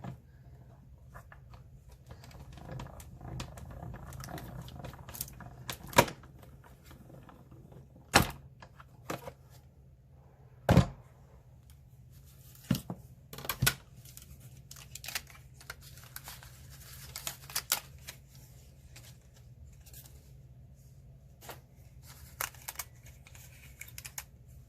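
A paper die-cutting machine is cranked by hand to cut seashell shapes from cardstock, giving a steady low mechanical rumble broken by a few sharp clicks and knocks, fairly quiet and close, with no talking.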